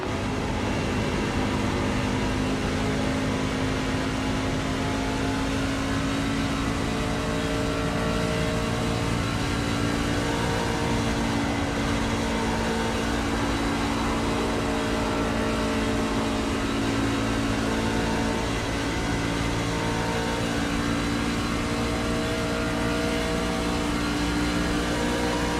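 Steady onboard engine drone from the leading truck in an SCRL Truck Series race, the Lone Star 170, a sustained high-revving roar with a constant whine, loud and close throughout with no talking.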